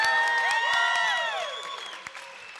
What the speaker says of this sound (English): we applaud our youth for their commitment to serving our community.